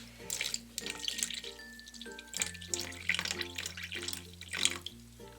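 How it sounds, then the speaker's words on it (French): Tap water pours steadily into a bucket, filling it up to a marked line for a giant DIY slime, with background music playing over the flow throughout. "De l'eau jusqu'au trait."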